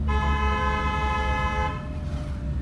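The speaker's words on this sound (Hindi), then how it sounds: "लॉन्ग हॉर्न प्रेस करो।" A long, steady car horn blares loudly and close for nearly two seconds in city traffic, then cuts off, leaving road noise.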